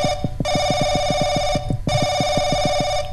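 An old telephone rings in the Paranoiac horror video game, sounding in two long bursts of rapid, even bell trills with a short gap between them, loud and close, with no one talking.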